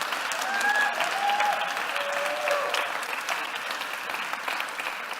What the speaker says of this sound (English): A round of applause, please, for everyone at D-School Africa.